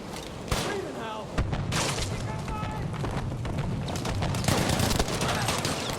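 Battlefield V gunfire erupts in rapid bursts and thumping shots, dense and loud over a rumbling battlefield. Voices can be heard talking through parts of the firing.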